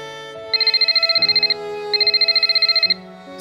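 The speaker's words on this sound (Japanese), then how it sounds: "スマホ鳴ってんぞ、みほっち。" A smartphone ringtone chirps in two sustained bursts of rapid pulsing tones inside the Toji no Miko Kizamishi Issen no Tomoshibi video game, over soft background music, with no talking.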